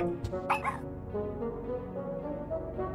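A young dog yips and barks in the puzzle game Storyteller, a few short bright barks over a sustained soft musical backdrop.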